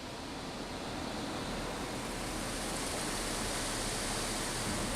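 Ryko SoftGloss XS 2 car wash at a Toyota dealership in Merrillville, Indiana, spraying rinse water in a dense, steady hiss that fills the whole stretch without a break, close and even.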